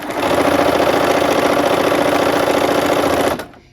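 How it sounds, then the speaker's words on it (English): A sewing machine stitches a scant quarter-inch seam in one steady, fast run lasting a few seconds, close and loud, then stops abruptly. "I'm gonna sew a scant 1/4 inch"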